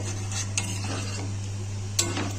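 Potato curry stirred in a pan after water is added, soft scraping strokes and a couple of sharp spoon clinks against the metal over a low steady hum, close and quiet with no talk.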